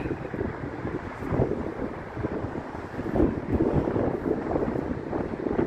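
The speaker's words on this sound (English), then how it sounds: "And it's very windy today." Strong wind buffets the microphone in a continuous low roar, rising and falling in gusts with no voices.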